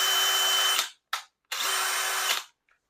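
Dewalt DCD996 cordless drill running in bursts, a high steady whine that spins up and stops, then a brief blip and a second longer run, near and clear, with no one talking.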